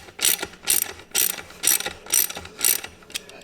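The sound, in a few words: hand ratchet tightening beadlock wheel bolts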